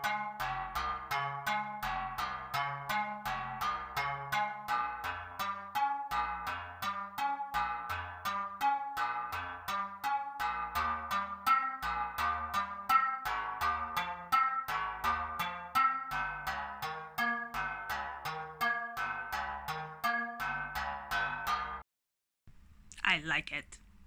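Synthesizer arpeggio steps through a scale in a fast, even run of short plucked notes, steady and fairly loud for most of the stretch, then stops abruptly with a brief fragment after a pause.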